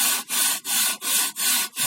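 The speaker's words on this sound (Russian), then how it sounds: "Пила дружба, пеноблок, пиляем." A Druzhba two-man hand saw rasps through a foam concrete block in steady back-and-forth strokes, five loud, close scraping pulls with short pauses between them.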